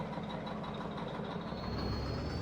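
A farm truck used with a trailer for tipping potatoes and sugar beets idles in a steady, loud low rumble with a faint whine above it, no talk.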